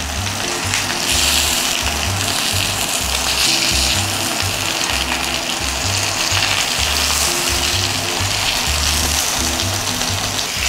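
Chicken thighs fry in a pan, giving a steady loud sizzle that runs throughout. A rhythmic low thumping pulses underneath, and no one speaks.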